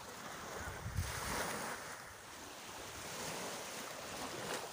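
Sea waves wash onto a beach at Barelang, Batam, a continuous roar of surf mixed with wind buffeting the microphone, steady and fairly loud with no talk.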